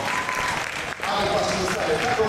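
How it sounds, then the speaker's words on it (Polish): Spectators at a Polish American football league game between Seahawks Gdynia and Angels Toruń applaud loudly, a broad continuous roar of clapping with faint crowd voices mixed in. "Wielkie brawa dla Ciebie."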